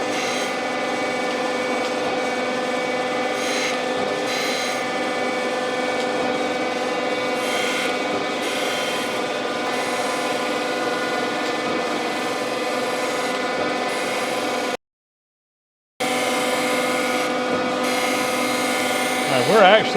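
A surface grinder wheel grinds across a lathe cross slide during a machine restoration, giving a steady, close abrasive hiss and whine that runs almost unbroken for the whole stretch, with one brief gap.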